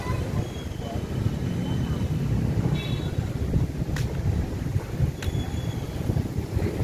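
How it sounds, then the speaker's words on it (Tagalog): Steady outdoor wind rushes and buffets the microphone throughout in an empty town plaza at night, a broad low roar with a few faint distant sounds mixed in. "Sarap ng hangin."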